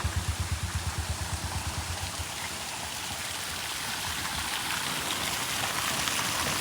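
Steady rushing rainwater flows across a road in a broad, even hiss, with a rhythmic thumping at the start that fades out as the stream continues alone.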